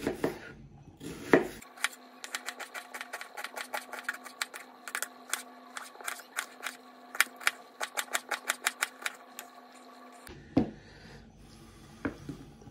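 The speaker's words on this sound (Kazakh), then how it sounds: "Жуамызды сақтап тураймыз." A knife chops an onion on a board in a home kitchen. Quick, crisp, evenly spaced taps run for about nine seconds, close and moderately quiet, and there is no talk.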